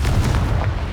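A short, heavy boom bursts from the Confringo fire spell in Hogwarts Legacy, a deep explosive thud with a rumbling low tail that fills the moment on its own.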